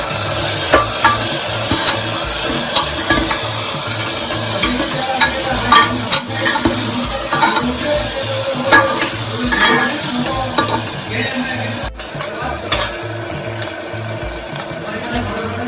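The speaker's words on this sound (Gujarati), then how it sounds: "જે બટેટા લીધેલા છે તે એડ કરીશું મિક્સ કરીશું" Potatoes are stirred into cluster-bean vegetables in a pressure cooker, with a spoon scraping and clattering steadily over a continuous sizzle and frying hiss.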